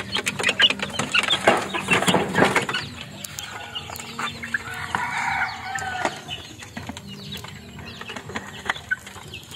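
Backyard rooster and hens clucking and stirring close by, with busy bursts of calls and wing rustling early on, then quieter scattered clucks over a low steady background.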